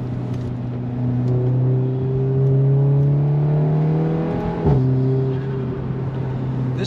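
A car fitted with a Remus performance exhaust pulls along steadily, its engine drone climbing in pitch under acceleration before a brief shift dip, then settling into a smooth, close, continuous hum with no talking.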